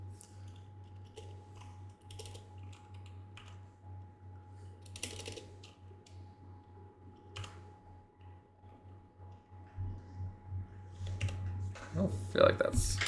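Rapid clicks from a computer keyboard as code is typed in GameMaker, quiet and close over a steady low hum, with the pace picking up and growing louder toward the end.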